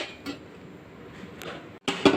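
A metal pot lid set down over kodi biryani for dum cooking, a light clatter after a low simmering hiss, with a sharper clink and rattle near the end.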